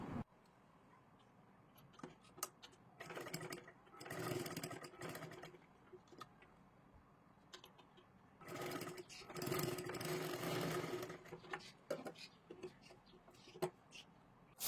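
A sewing machine stitches a sleeve in bursts of steady mechanical whirring, with short pauses between runs of stitching and occasional clicks; a voice talks over parts of it.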